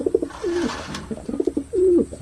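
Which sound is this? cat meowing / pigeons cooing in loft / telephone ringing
pigeons cooing in loft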